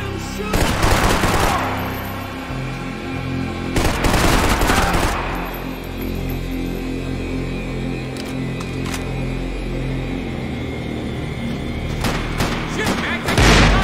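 Covering fire in the Max Payne game erupts in bursts of loud, rapid gunshots, with a heavy volley at the start and another a few seconds later, then scattered shots and a final burst over a steady background rumble.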